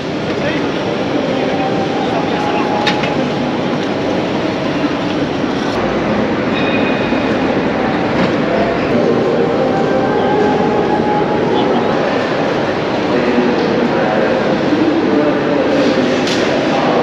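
Station ambience at Gare du Nord in Paris, a dense continuous wash of rumbling trains, echoing hall noise and crowd murmur, steady throughout with indistinct voices mixed in.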